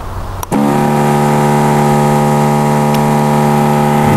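A loud misting-system engine in a conifer-cutting propagation setup starts abruptly and keeps running at a steady droning hum, close by and alone.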